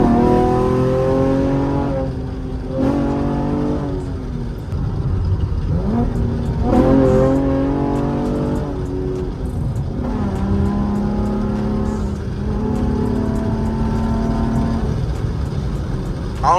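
A V6 fifth-generation Chevrolet Camaro exhaust roars loudly as the car accelerates, engine pitch climbing through several gear pulls with brief drops between shifts, heard from inside the car.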